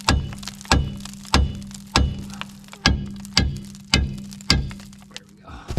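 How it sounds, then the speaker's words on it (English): A car steering knuckle being struck hard with a hammer to shock it loose, about nine loud, evenly spaced metallic bangs, each with a short ringing decay, heard up close with no talking. "You're shocking the knuckle, and the banging sets it free, I guess."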